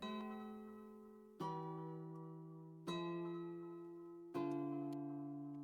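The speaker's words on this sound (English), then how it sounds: "I made this simple ass guitar melody to start off." A simple guitar melody from a Flex preset in FL Studio, four sustained plucked chords struck about every one and a half seconds, each ringing out and fading, soft and alone.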